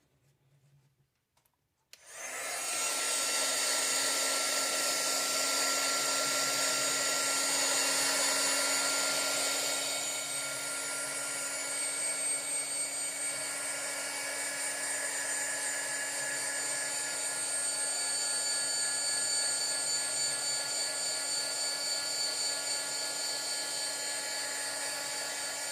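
Heat tool blowing on alcohol inks on a bare stainless steel tumbler, a close, steady whining whoosh that starts abruptly and runs continuously with a slight dip in intensity partway through.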